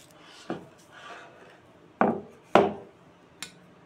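Stone slab and grinding stone handled for crushing poppy seeds, peanuts, chilli and black cumin: a few sharp knocks and scrapes of stone on stone, close and separated by short pauses, with no talking.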